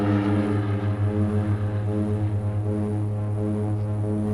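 Propeller airplane engine droning steadily as the skydiving plane climbs to jump altitude, a loud continuous hum with strong low harmonics throughout, no talking.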